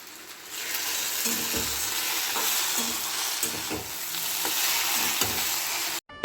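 Okra sizzling in a hot pan with tomato sauce, a continuous loud fry punctuated by scraping stirs from a spatula, close up and with no talk.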